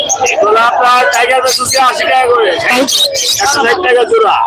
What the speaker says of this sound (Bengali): দেখছেন এটা প্রচুর মুরগির বাচ্চা